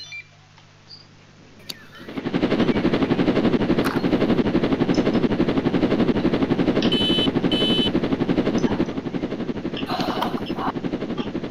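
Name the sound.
helicopter flying in the video game Roblox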